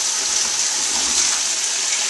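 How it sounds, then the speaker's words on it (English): Running tap water pours in a steady, loud broadband rush as hands are washed at a kitchen sink, continuous and close with no talking. "I'm going to wash my hands and then get them dirty again."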